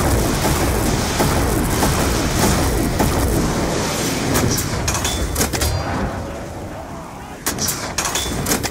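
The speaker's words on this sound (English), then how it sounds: "Those rats could not have survived the explosion." Explosions boom in Black Ops 2 Zombies Origins, a loud, dense wash of blasts and gunfire that thins out into scattered sharp bangs toward the end.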